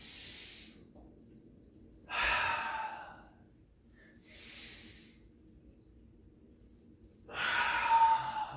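Deep breaths during a mobility drill: slow, airy inhales and long hissing exhales alternate in a calm rhythm, close and fairly quiet, with no talking over them.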